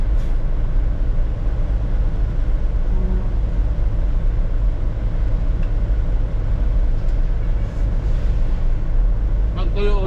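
Heavy traffic near the Manila International Port in Tondo, Manila, heard from inside a truck: a loud, constant low rumble of engines, with a few brief horn or brake sounds. Talk is present.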